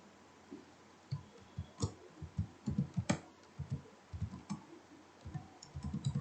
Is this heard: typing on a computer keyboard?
yes